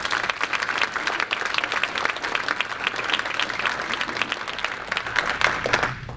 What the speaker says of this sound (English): So a round of applause for our sponsors,